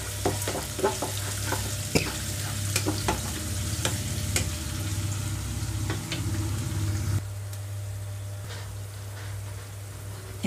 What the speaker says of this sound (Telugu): కొంచెం ఉల్లిపాయలు ఇక్కడ దూరగా వేయించుకుంటున్నాను ముందుగా.